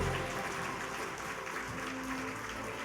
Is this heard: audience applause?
yes